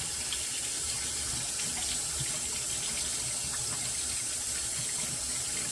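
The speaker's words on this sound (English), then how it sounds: "Get the brush wet" Tap water runs steadily over a shaving brush, soaking the bristles before lathering soap in a ramekin, a continuous close splashing rush with no talk.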